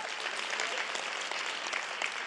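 A church congregation applauds a newly married couple with steady, even clapping from many hands, close and sustained from start to finish.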